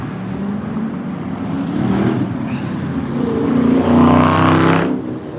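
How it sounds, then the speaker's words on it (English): A car engine revs and swells as the vehicle passes close by, building to a loud roar near the end before cutting off sharply. "I will never understand people who like revving their engines."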